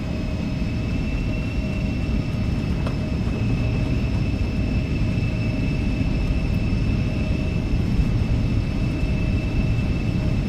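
Embraer E-175 jet engines at takeoff power in the X-Plane 12 flight simulator, a loud, constant rumbling roar with steady high whining tones running the whole way through.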